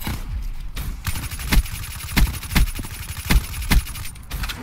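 Gunfire in a shooter video game: a steady stream of sharp shots with heavier cracks landing roughly every half second, close and loud, with no talking.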